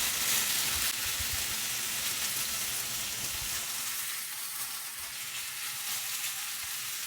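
Food with mustard and a pinch of salt frying in a pan, a steady close sizzle and crackle that runs on without pause, with no voices over it.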